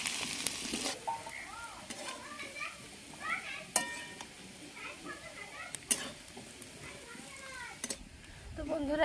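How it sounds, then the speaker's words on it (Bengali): Cauliflower, potato and carrot fry in a pan with a quiet sizzle and occasional stirring scrapes and clinks, while background voices and children can be heard faintly. "আমি এখানে ফুলকপি, আলু, গাজর ভেজে নিচ্ছি।"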